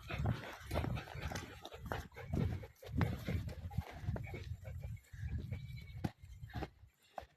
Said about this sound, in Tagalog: May nakawala pong kambing.